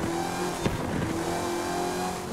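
A tuned Fast X flip car in Forza Horizon 5 accelerates hard, its engine droning loud and continuous with rising revs and a brief tire chirp, no talk over it.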